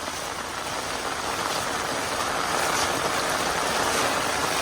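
Heavy monsoon rain pours and floodwater rushes along a residential street in Punjab, a dense, steady hiss that never lets up, with no talk.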